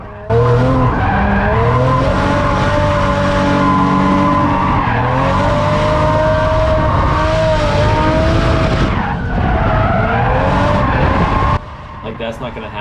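Toyota AE86 Corolla drifting and linking banks, engine revving hard with rising and falling pitch and continuous tire squeal, loud and close for most of the run before cutting off near the end.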